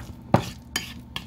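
A spoon works through a bowl of mashed potatoes blended into a meatloaf mix, giving three soft, close scraping and squelching strokes spaced out, moderately quiet, with no talking.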